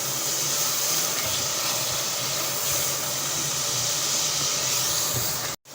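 Spices and chili masala fry in a hot pan with a steady, loud, broadband sizzling hiss that holds evenly for several seconds before cutting off abruptly near the end.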